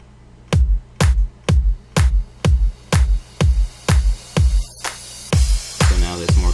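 A house beat programmed in FL Studio thumps out steady punchy kick-and-clap hits about twice a second, loud and upfront, with a short break and a rising noisy swell near the end.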